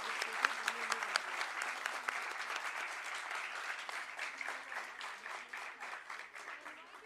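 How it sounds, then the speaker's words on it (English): An audience at a TEDx school event claps for the speakers, a steady round of rhythmic applause that carries on evenly throughout, heard from within the hall. "Can we have a huge round of applause for all of them?"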